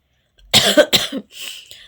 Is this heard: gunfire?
no